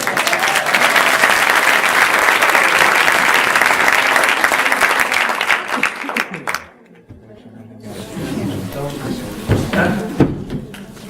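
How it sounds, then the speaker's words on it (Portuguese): Sustained audience applause at an Ignite Faro talk fills the room, dense and loud for several seconds before cutting off abruptly; afterwards a single presenter speaks over light room noise. "Eu acho que merecem uma salva de palmas, não?"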